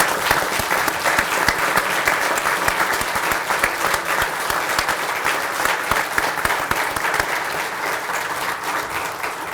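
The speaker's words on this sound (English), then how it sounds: "we are going to stand and applaud you" Standing ovation from a large audience at a corrections event, loud dense clapping sustained throughout with no letup and no voices over it.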